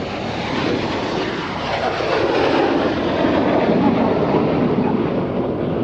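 A jet aircraft flying an airshow display gives a loud, continuous engine roar that swells slightly midway and holds steady, with no voices.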